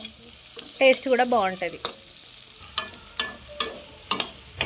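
Sago pearls fry in a pan with salt, crackling in soft scattered pops close by, with a person talking briefly near the start.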